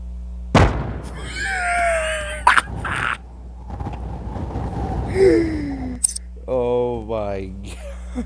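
A 1,000 millimeter tank cannon fires and explodes in a heavy-tank video game, a sharp blast followed by rumbling burst noises, heard under a voice with gasps and sighs.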